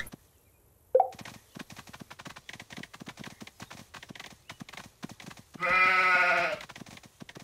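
In a Paw Patrol video game, rapid clip-clopping hoof taps are followed by a single loud, wavering sheep bleat lasting about a second near the end.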